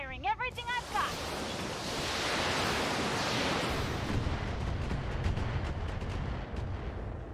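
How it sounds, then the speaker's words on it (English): Weapons fire all at once in the mech game Battletech: a sustained, roaring barrage of broadband blasts and rumbles rises after a brief voice at the start, then crackles on with sharp rapid impacts. "Firing everything I've got!"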